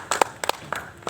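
An audience at a school student-organisation gathering breaks into applause, a few scattered bursts of clapping at close range, loose and uneven rather than a sustained ovation.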